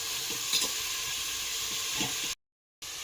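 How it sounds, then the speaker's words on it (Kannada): Sliced onions deep frying in a pan of hot oil for Malnad chicken biryani, a steady close sizzle with a brief stir or two, cutting out into silence near the end. "ಸ್ವಲ್ಪ ಡೀಪ್ ಫ್ರೈ ಆಗಬೇಕು ಸ್ವಲ್ಪ ಒಂಥರ ಕಂದು ಬಣ್ಣ ಬರುತ್ತೆ ಅಲ್ಲಿ ತನಕ ನಾವು ಇದನ್ನು ಫ್ರೈ ಮಾಡ್ಕೋಬೇಕು"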